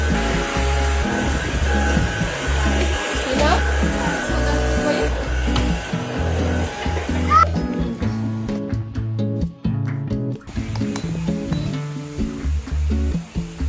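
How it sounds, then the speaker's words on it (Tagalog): A steady, loud motor whine of a vacuum cleaner running continuously, with rumbling shifts in pitch as it moves across the floor. "at nag-vacuum lang din muna ako ng sahig"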